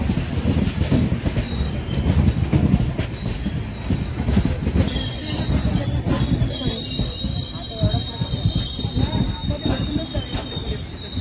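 A Ratnagiri–Diva passenger train pulls into a village station, its wheels squealing loudly and steadily against the rails over a continuous rumble and clatter of rolling cars, close by and filling the whole scene.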